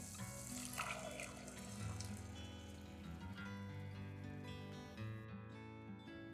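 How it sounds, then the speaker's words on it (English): A steady stream of water runs into a pot of drumstick (moringa) soup, trickling and splashing softly over a gentle musical bed before it cuts off near the end. "Some water to bring it to the soup consistency."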